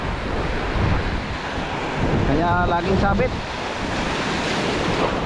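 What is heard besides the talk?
large ocean waves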